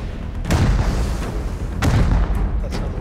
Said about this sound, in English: We're firing at the wall.